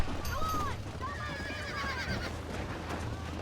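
A horse neighs in Red Dead Redemption, a rising and falling whinny with a second longer call, set over steady game ambience and hoof noise while someone talks.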